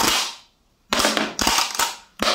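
A Kel-Tec KS7 pump-action shotgun loaded with snap caps is racked hard, giving a sharp, loud clack followed after a pause by three quick, hard mechanical slams close to the listener.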